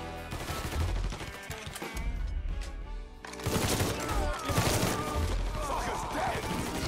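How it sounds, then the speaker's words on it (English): Rapid bursts of gunfire in a Mafia III shootout, dense cracking volleys mixed with impacts and clattering, loud and continuous with voices shouting beneath. "Shooting!"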